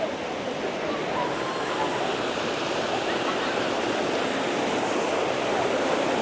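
River water rushes steadily at the Kottiyoor temple bathing place, a loud, unbroken roar of flow that stays close and even throughout, with no pauses.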